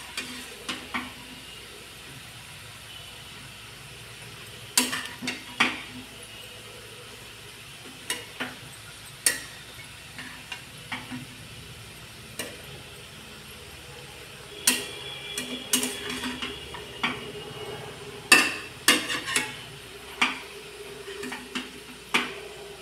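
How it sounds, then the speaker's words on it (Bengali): Spinach and mixed vegetables being stirred in a pan over a low sizzle, with scattered sharp clicks and scrapes of a spoon against the pan, growing busier toward the end, no voices. "এবার আমরা ভালো করে মেশাবো।"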